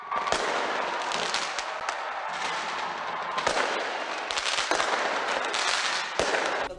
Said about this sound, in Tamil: புத்தாண்டை வரவேற்கும் வகையில் தென்கொரியாவில் வான வேடிக்கை நிகழ்வுகளும் நடாத்தப்பட்டன